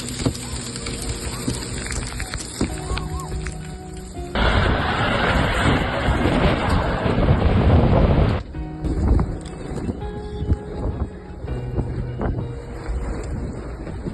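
Strong wind gusts on an exposed road toward Ushuaia, a roaring, buffeting rush that surges for a few seconds mid-clip, heard with a vehicle and some voices.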